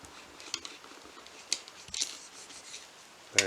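Scissors snip mylar tubing while a trolling fly is tied, giving a few quiet, sharp cuts spaced apart with a louder snip at the end, close by in a quiet room.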